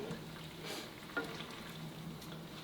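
Pasta in a thickening green olive sauce simmering as it is stirred, a soft, low bubbling and faint sizzle with light spoon scrapes, fairly quiet and steady.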